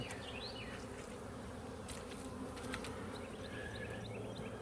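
Honey bees buzz at an opened hive during a Demaree setup, a dense steady drone of many insects close by, with individual bees whining past over the hum.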